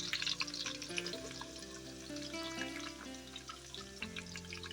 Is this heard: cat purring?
no